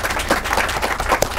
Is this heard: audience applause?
yes